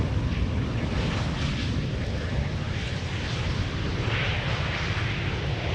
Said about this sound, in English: German Airways operating for KLM. Embraer 190.